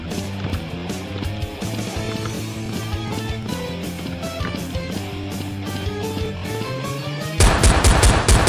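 Rapid automatic gunfire in the shooter game Blood Strike, a dense loud stream of repeated shots under game music, ending in a harsher, heavier burst of fire.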